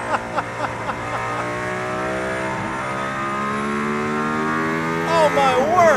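A Mercedes-AMG car being driven hard on a track near Barcelona, its engine note climbing steadily in pitch as it accelerates, loud and continuous from inside the cabin, with a brief higher squeal near the end.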